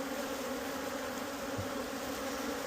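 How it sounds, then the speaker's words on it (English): Honeybees buzz in a continuous low hum throughout, a dense swarm drone at an apiary hive with no voices. "See all these bees coming out"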